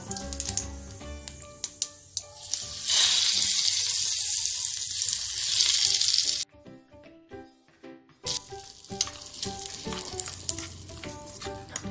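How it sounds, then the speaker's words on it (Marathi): Cumin seeds hit hot oil for a tadka over a yogurt chutney and burst into a loud, bright hiss that runs for several seconds, then cuts off abruptly. Clinks and stirring follow. "त्यामध्ये अर्धा चमचा जिरं आणि याचा तडका आपल्याला चटणीवरती देऊन घ्यायचा आहे।"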